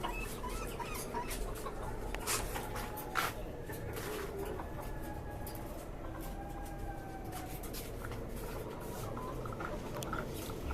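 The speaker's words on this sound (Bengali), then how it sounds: "পাঁচতলা বাড়ির ছাদের উপর খাঁচা বিশিষ্ট একটি মুরগির খামার, দেশি ও টাইগার মুরগির খামার।" Desi and tiger chickens in cages on a five-storey rooftop farm give scattered soft clucks and rustling over a steady background hum.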